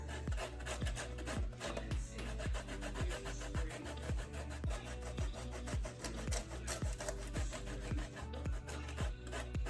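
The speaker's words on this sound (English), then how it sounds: "we're gonna grate some cheese on there" Cheese is grated onto Belizean salbutes in steady, rhythmic rasping strokes, close and continuous, with no talking.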